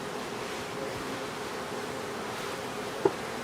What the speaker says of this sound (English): All these here are worker bees,